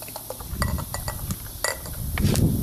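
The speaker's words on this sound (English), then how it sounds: "Pour a little bit aggressively there." Samuel Adams Stony Brook Red beer is poured hard into a glass, giving a run of clinks and glassy knocks with a rising liquid rush and fizz toward the end, close by and moderately loud.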